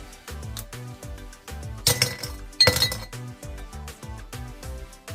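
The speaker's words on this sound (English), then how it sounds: "remember my brown ice cube, so I'm gonna pop this in" An ice cube clinks and rattles into a glass during preparation of a fatigue-beating juice, with a couple of sharp louder clatters amid repeated light taps and knocks; no speech.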